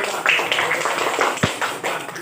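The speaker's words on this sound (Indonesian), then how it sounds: "Ya, kasih tepuk tangan." Students clapping together in an elementary class, a brief burst of dense, fairly loud applause at close range, with a single low thud in the middle.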